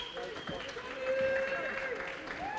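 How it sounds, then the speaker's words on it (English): A crowd applauds an MMA fighter at the IMMAF 2021 World Championships in Abu Dhabi, with brief clapping in the background under continuous loud commentator speech. "Round of applause here as Artem Hashenko gets back to"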